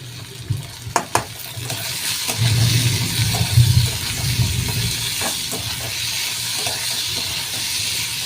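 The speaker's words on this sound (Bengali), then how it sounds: "একটু ভাজা ভাজা করবো আলুটা।" Potatoes frying in oil with fried onion, chopped green chilli, salt and turmeric for spicy semolina, giving a steady close sizzle and hiss with a few sharp clinks and stirring scrapes early on.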